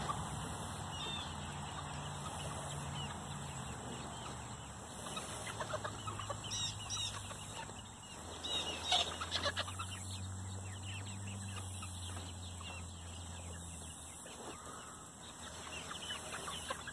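Chickens cluck softly and steadily inside chicken tractors outdoors, with scattered calls rising now and then over a constant background hum.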